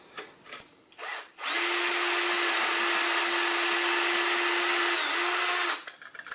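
Cordless drill spinning a portable fixed-base pencil sharpener, a steady high whine and grinding of wood shavings for about four seconds, close and loud, preceded by brief clicks and short bursts of rustling.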